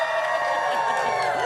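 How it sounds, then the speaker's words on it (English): A building crowd gathers outdoors behind a morning TV news broadcast in Leominster, a dense wash of cheering and whooping voices, loud and steady, close by. "it's a great crowd that is building behind us this morning"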